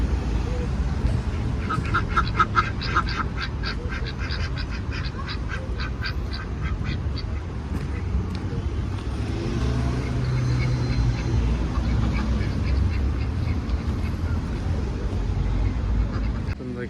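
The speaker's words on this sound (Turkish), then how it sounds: "Şurada ördekler var" Ducks quack in a rapid, repeated series early on alongside chickens, then fade into a busy outdoor street mix of low rumble and water-like noise.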